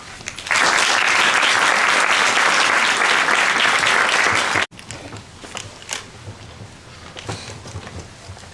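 A crowd at a Japan Society event applauds in welcome for Ambassador Tsuneo Nishida, Japan's UN representative. The loud, dense clapping fills the room for about four seconds, then stops abruptly and leaves faint room noise and scattered sounds.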